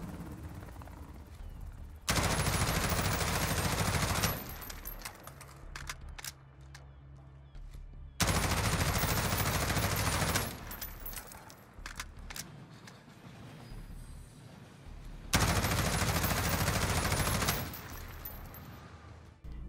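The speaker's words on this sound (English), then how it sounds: "we should have a look at the weapon's recoil pattern" In the video game Modern Warfare, an M4A1 rifle fires three loud sustained automatic bursts of roughly two seconds each, separated by quieter gaps with faint clatter.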